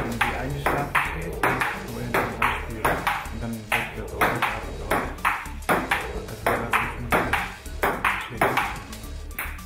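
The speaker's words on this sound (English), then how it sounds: "This person has made a robot that can hit the tennis ball automatically and play with him." A homemade table tennis robot and a player trade a ping pong ball in a steady, rapid rally of crisp hollow clicks about twice a second, with a voice talking over it.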